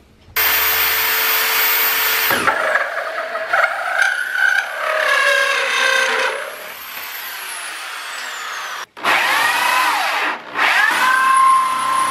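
A power drill bores vent holes through a car bumper, loud and close, with whining bursts that rise and fall in pitch as the bit spins up and cuts, pausing briefly between holes.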